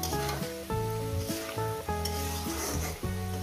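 Poppy seed paste with turmeric frying in a pan, a steady sizzle under repeated rhythmic scraping and stirring strokes of a utensil, close and clear throughout.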